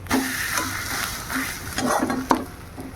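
Fish roe frying in a pan of oil alongside shrimp, a steady close sizzle with scattered pops and spatters and a sharp crackle near the end.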